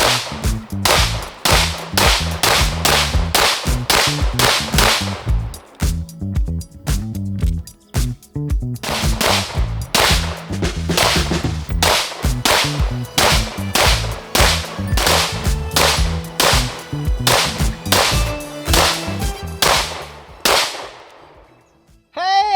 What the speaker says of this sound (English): Let's see how it does going through 50 rounds of this